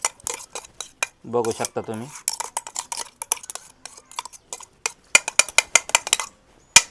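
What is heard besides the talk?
spoon scooping mixture from mixer jar into bowl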